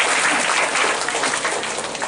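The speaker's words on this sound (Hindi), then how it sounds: "दोनों के लिए हम तालियां बजाएंगे" An audience claps during an educational session after a classroom experiment, a dense, even burst of applause lasting a couple of seconds without speech.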